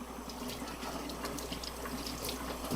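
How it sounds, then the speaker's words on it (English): Tap water runs steadily into a sink while pickling equipment for mustard greens is rinsed, a continuous close splashing flow with no voices. "here what you want to do is rinse everything"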